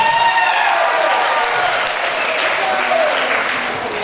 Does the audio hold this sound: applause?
yes